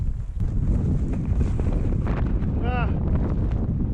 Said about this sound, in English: It's so windy